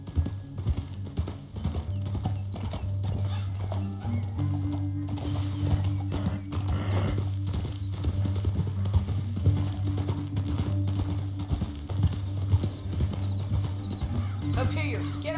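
Horse hooves clip-clop in a steady rhythm throughout, set against a sustained musical drone.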